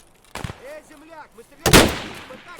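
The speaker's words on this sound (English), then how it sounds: "don't shoot me with your fucking Mosin" Mosin rifle shots ring out in a shooter video game raid, two loud cracks about a second apart with a tonal in-game sound between them.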